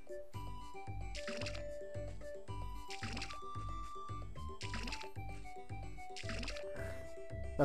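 Watering a flower in the farming game Harvest Moon: A New Beginning: soft splashing bursts recur about four times at a steady pace, layered over looping, rhythmic game music.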